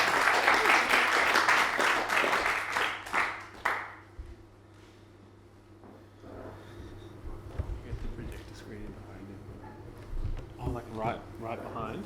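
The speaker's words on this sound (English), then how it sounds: "Round of applause." Audience applause greets a performer at a playful sound event, a burst of clapping for a few seconds that fades out, followed by quiet room noise, scattered small sounds and people talking.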